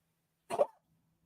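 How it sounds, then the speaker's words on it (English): A single short, raspy cough from a dog, close and fairly soft, with silence before and after. "Sorry again if you hear Brink coughing in the background."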